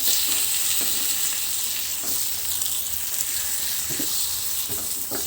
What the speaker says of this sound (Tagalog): Halo lang.